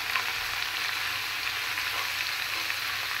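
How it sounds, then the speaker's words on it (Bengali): Greens sizzling in a pan of hot oil with onion, green chili and garlic, a steady close hiss and crackle running evenly throughout with no voices. "এখন পেঁয়াজ, মরিচ, রসুন ভাজা হলে শাকটাও দিয়ে দিলাম।"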